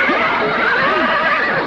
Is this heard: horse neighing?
yes